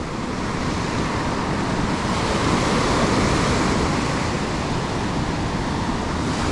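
Ocean surf breaking onto a sandy beach at the water's edge where fishing takes place, a steady full roar of churning waves with wind noise across the microphone, loud and continuous with no voices.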